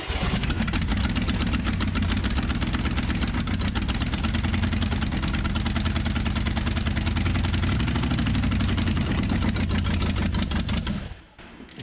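A 1960 Chevrolet Impala four-door hardtop, abandoned for 38 years, idles steadily with an uneven miss in its rhythm, loud and close for about eleven seconds before cutting off abruptly.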